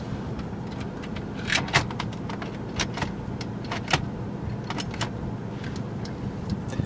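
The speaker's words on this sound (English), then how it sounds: "Okay, so I've got my car running." A car engine idles steadily in a low, even hum, with scattered sharp clicks and taps near the car over the top.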